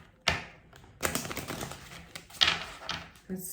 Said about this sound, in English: let's shuffle real quick